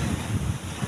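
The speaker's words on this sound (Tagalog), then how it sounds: "sa labasan hanggang doon sa labas ay malalakas ang alon" Strong ocean waves crash and roll under heavy wind on rough, stormy seas, a continuous loud roar with surging swells and no voices.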